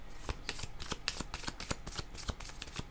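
Playing cards being shuffled close up, a rapid run of crisp riffling snaps and flutters with no voices.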